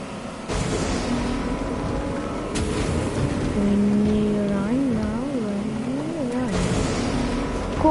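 A steady engine-like drone with a wavering pitch runs under constant water-like noise, loud and continuous, with faint sounds of people talking.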